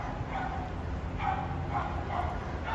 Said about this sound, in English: Nope, that's another dog barking.